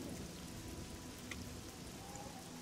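Steady rain falling in the video game Oblivion near a farm, a dense even hiss of droplets with no voices.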